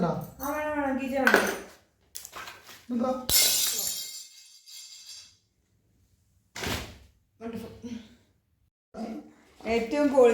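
Dishes clatter and crash in a brief loud burst after something falls while household items are being packed for a move to Australia. People talk before and after the crash, and there are a few smaller clinks.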